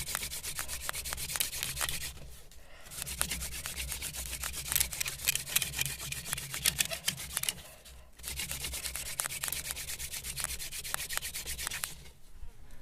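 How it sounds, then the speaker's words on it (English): A hand-worked bow drill spins rapidly against a wooden fireboard in a desert friction-fire attempt, making a loud, steady rasping grind in long continuous strokes, briefly pausing twice as the bow reverses. "this is when the mechanical advantage of the bow drill is apparent"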